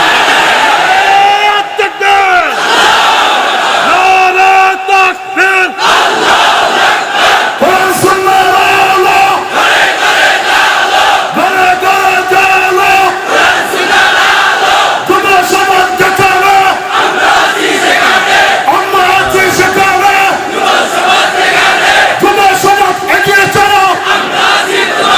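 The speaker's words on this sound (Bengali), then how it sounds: "জিব্বা মোহাব্বতে জিব্বা খুলে কণ্ঠ আওয়াজ করে একটা তাকবীর দাও" A large crowd at an outdoor Islamic sermon shouts takbir in loud, repeated unison chants, with waves of massed voices rising and falling close by for the whole stretch.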